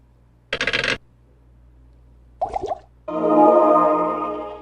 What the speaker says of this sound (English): did you know that sound's from Diablo?